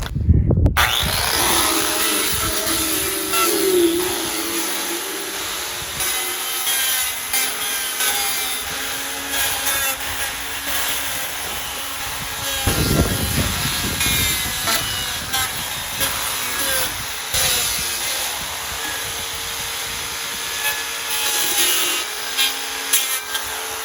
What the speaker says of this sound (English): Might as well do some grinding on this and then I'll finish it off with a sander.